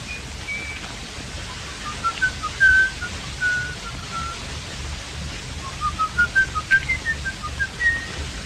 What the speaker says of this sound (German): Na, hör doch mal, da pfeift doch einer.